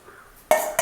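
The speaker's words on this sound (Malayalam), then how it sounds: "തേങ്ങയൊക്കെ നല്ലവണ്ണം ഈ ശർക്കരയിൽ ഒന്ന് പിടിക്കുന്നിടം വരെ നമുക്ക് ഒന്ന് ഇളക്കി കൊടുക്കും." Grated coconut is stirred into melted jaggery in a pan for aval vilayichathu, giving two short, close bursts of scraping and stirring after a quiet start.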